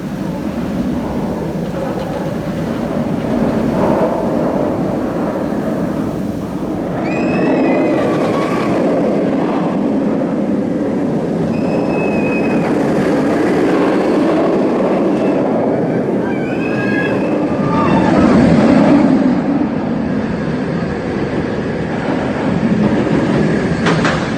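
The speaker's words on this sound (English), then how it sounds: "Amazing ride on Nemesis, wasn't it?" Nemesis, an inverted roller coaster at Alton Towers, rushes and rumbles loudly and steadily through a continuous ride with surging roar and squealing wheels, while riders' faint screams rise and fall over the noise.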